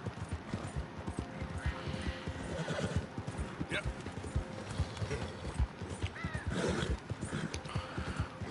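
A horse in the video game Red Dead Redemption 2 whinnies and clip-clops, hooves thudding in a steady rhythm with sharp neighs rising above them, while someone talks over the sounds.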